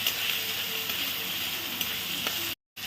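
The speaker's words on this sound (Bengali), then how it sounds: "দিয়ে দিলাম 1 টিস্পুন আদা বাটা, এবারে এটাকেও খুব ভালোভাবে কষিয়ে নেব।" Ginger paste sizzles and fries in a pan, a steady close hiss with a few faint scraping ticks before it cuts off abruptly near the end.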